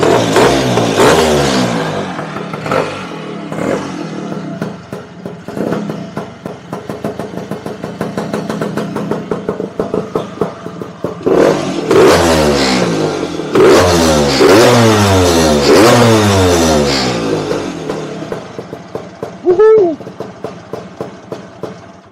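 A restored Lambretta Series 1 scooter engine revs hard through repeated rising and falling sweeps, loud and close, with a short sharp burst near the end.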